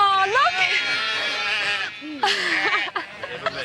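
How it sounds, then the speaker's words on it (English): A ewe bleats loudly and repeatedly while calling for her lamb at an SPCA rescue, giving long wavering cries close by with a faint background murmur. "one of the surviving ewes calling for her lamb"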